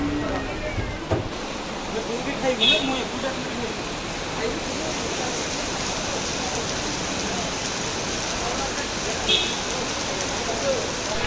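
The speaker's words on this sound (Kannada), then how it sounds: "ಎಷ್ಟು ಜೋರಾಗಿ ಮಳೆ ಬರ್ತಾ ಇದೆ" Heavy rain falls outdoors outside a D-Mart store, a steady, even hiss of downpour that continues throughout with only slight swells.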